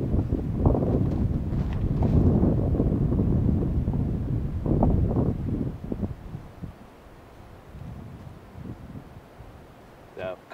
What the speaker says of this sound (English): caught a little bit of that wind coming in, that headwind